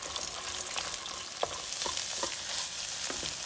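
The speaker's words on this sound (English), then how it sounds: "bit of black pepper, cracked pepper, let's just scramble it." Eggs with cracked black pepper are scrambled in a frying pan, a constant close sizzle punctuated by several light spatula scrapes and taps against the pan; nobody speaks.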